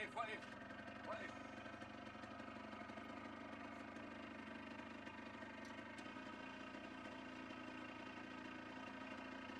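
An engine idles steadily throughout, a continuous mid-pitched hum with a faint rattle, holding an even level from start to finish.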